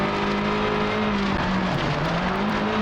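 Rally car in the racing game Sebastien Loeb Rally Evo, engine droning steadily at high revs as the tyres slide and scrabble on loose surface, continuous and close with no talking.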